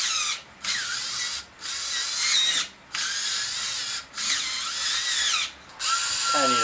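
A power drill drilling in repeated bursts during a budget oil and return line job on an LS-swapped turbo Miata kart, each loud whine stopping briefly between runs and ending with a clicking ratchet-like sound.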